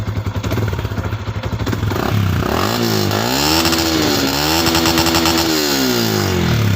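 A Sniper150 motorcycle with an open kalkal pipe exhaust idles with a rapid putter, then is revved hard through several rising and falling surges, loud and close.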